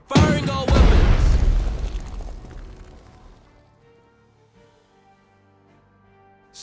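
Ship weapons fire in the World War II strategy game Strategic Mind: Blitzkrieg during Operation Weserübung. A heavy boom and rumbling burst opens the sound and decays over a few seconds into near quiet.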